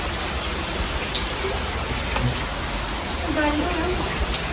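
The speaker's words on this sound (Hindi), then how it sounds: "कब से बारिश चल रही है" Steady rain falling outdoors, a continuous even hiss of drops with faint background sounds and no clear voices.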